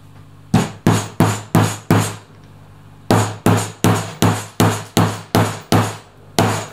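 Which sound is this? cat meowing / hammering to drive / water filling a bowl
hammering to drive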